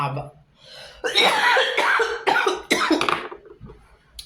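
A few rough, throaty coughs and throat-clearing bursts in quick succession, close and fairly loud, with some vocal sound mixed in.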